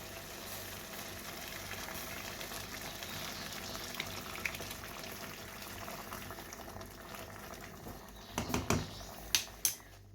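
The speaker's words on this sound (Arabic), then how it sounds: "هنا عندي الماء مغلي باش غادي نربح الوقت" Water at a rolling boil in a pot for a Moroccan prune stew, a steady close bubbling hiss throughout, with a few sharp clinks and knocks near the end.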